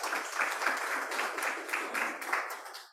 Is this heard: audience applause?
yes